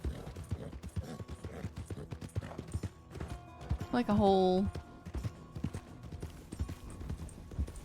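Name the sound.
horse hooves clip-clopping in RedM video game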